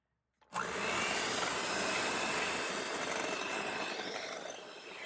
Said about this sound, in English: now it's time to just start making gradual additions of the powdered sugar and beat with the electric mixer until it's all incorporated